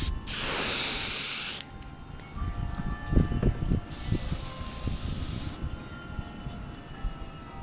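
A spray gun lays clear coat on motorcycle mirrors outdoors in wind. Two loud, close hissing bursts are separated by a pause filled with softer rustling and handling noise, with no talking.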